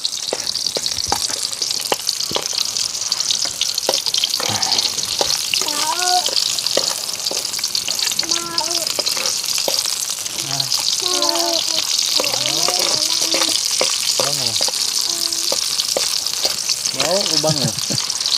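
Onions fry in a pan with a loud, unbroken sizzle while adults and children talk over it nearby.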